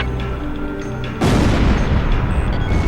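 A loud bomb blast in the Ace Combat Zero: The Belkan War air-combat game breaks in after a steady engine drone. It leaves a dense, sustained rumbling roar to the end.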